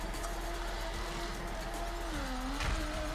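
A Mazda RX-7 FC drifts in a high gear: tires squeal continuously over a steady, droning rotary engine note that bends downward briefly, loud and close throughout.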